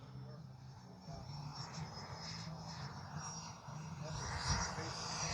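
An FMS Integral 80mm radio-controlled jet makes a low pass with its landing gear down, a faint, steady whine that swells slightly as it nears, with wind noise around it and no voices.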